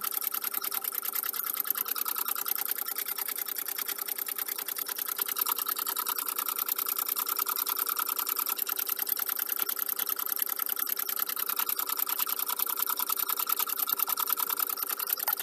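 A sewing machine stitches steadily and nonstop, a fast even mechanical chatter close by with no pauses throughout.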